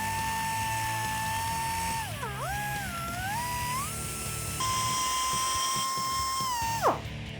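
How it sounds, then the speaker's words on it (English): A die grinder flattens metal on an axle mount during a Jeep Wrangler JL Rubicon suspension lift. Its sustained high-pitched whine dips and bends as it bites into the steel, then rises again and winds down at the end. "I'm just going to take a die grinder and grind this all flat"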